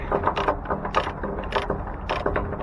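A wrench ratchets in short bursts as a bolt is tightened and loosened outdoors in 20-degree cold, the rapid clicking runs arriving close and crisp at uneven intervals over a low background hum.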